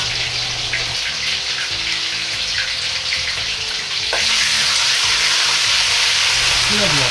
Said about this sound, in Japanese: エビ全体に熱が伝わるように油の中を泳がせるようにして火を通します